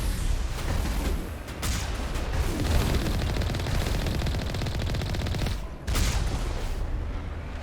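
Mako vehicle cannon and gunfire in the video game Mass Effect, a dense rapid stream of shots and booms rattling on nearly continuously, loud and close, with a short break near the end before firing resumes.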